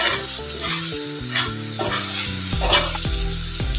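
Masala fish fries in a pan with a steady sizzle while a utensil scrapes and stirs it, and music plays throughout.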